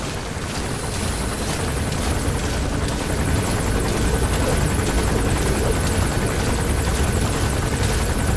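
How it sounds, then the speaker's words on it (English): An enemy gunship helicopter in Metal Gear Solid V thunders overhead, its rotor a loud, steady, continuous drone with rapid blade chop, unbroken for the whole stretch. "That's an enemy gunship."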